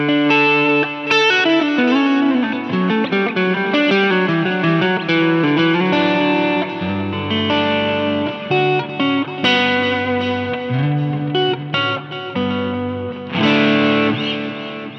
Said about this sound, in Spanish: Y si le quiero poner un poco de Reverb.